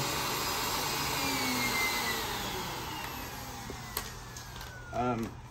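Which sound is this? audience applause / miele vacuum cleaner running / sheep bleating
miele vacuum cleaner running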